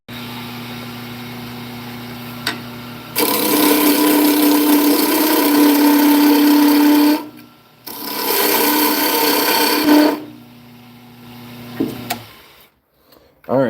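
A wood lathe turning a wooden top in a cold garage keeps up a constant motor hum. Two loud bursts of rasping tool-on-wood cutting break over it, one of about four seconds and a shorter one after, with brief quiet gaps.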